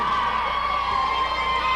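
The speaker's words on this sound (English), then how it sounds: "Oh, the crowd's loving it tonight." A wrestling arena crowd cheers and roars in a steady, dense wash of voices with whoops, loud and continuous throughout.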